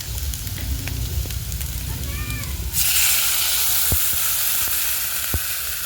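Water poured into a pan of frying potatoes sets off a sudden loud hiss that rises over the earlier gentle sizzle and keeps going, broken by a few clicks, with a voice talking quietly underneath.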